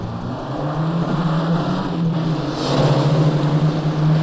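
Racing cars drive up a hill at a televised motoring challenge, one steady loud engine drone holding a low note and rising slightly near the end, with no pass-bys.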